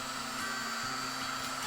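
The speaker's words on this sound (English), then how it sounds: "I used a hair dryer here on the low setting, and this helps pull out bubbles." A hair dryer on its low setting blows steadily over freshly poured resin in bracelet molds, a constant close whir with a low hum, unbroken across the whole stretch.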